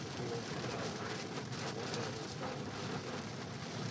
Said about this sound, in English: Just blinding rain.